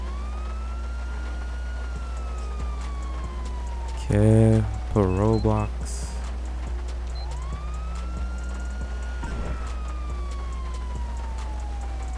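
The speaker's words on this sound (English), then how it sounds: "Oh, got the siren." Police car siren in the video game GTA 5 with LSPDFR mods, a slow rising and falling wail sweeping repeatedly under steady engine drone, with someone briefly speaking midway.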